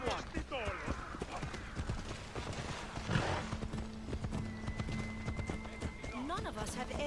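Horse hooves clip-clop steadily at a gallop in Assassin's Creed Odyssey, close and continuous beneath someone talking, with a brief whinny partway through.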